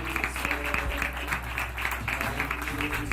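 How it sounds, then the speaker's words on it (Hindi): A church congregation at an evening prayer service claps to welcome their pastor, a steady dense patter of many hands lasting the whole stretch, with a low sustained hum or music beneath. "परमेश्वर के दास अभिषेक पास्टर पीजे स्टीफन पॉल जी का स्वागत करेंगे तालियां बजाते हुए।"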